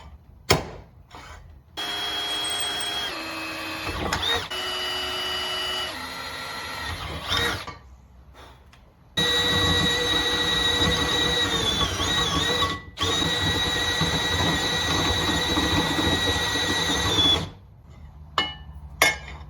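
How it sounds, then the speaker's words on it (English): A power drill bores two holes in metal for a turbo Civic catch can, two long whining runs with pitch shifts and brief stops, close and loud, separated by a pause and ending with a few clicks and knocks. "I'll just drill the 2 holes"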